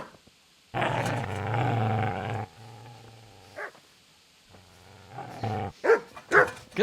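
Dog in the medieval game Kingdom Come: Deliverance growling low and sustained, then giving a few sharp barks and yips, close and loud with no talk.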